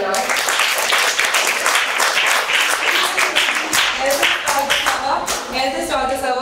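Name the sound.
audience clapping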